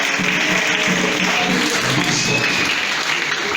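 A crowd applauds steadily at a celebration honoring a pastor's 42 years of ministry, dense continuous clapping filling the whole stretch at even loudness with no pause.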